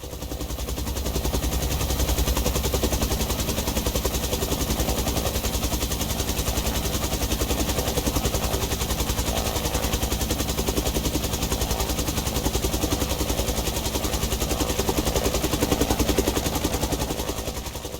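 Steady, droning rotor and turbine noise from a helicopter landing in the X-Plane 11 flight simulator, continuous and even in loudness throughout with no talking.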